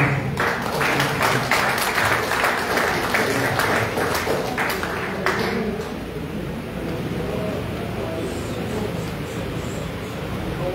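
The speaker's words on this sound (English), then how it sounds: "Please, everybody give a round of applause." An audience at an Order of DeMolay chapter's public installation ceremony claps in a dense, sustained round of applause that fades after several seconds into quieter room noise.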